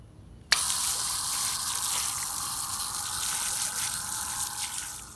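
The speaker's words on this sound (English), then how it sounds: "Now I'm gonna go rinse it off with a hose in the driveway." A garden hose rinsing a rusty trailer hitch in a driveway after electrolysis rust removal: water switches on abruptly and then sprays in a steady, loud, close hiss and splatter, with no talking.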